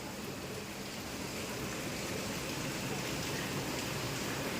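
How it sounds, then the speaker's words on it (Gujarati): Heavy monsoon rain pours steadily outdoors in Ahmedabad, a dense continuous hiss that stays level and fairly loud throughout, with no pauses. "આ તો જોરદાર આવે છે વરસાદ"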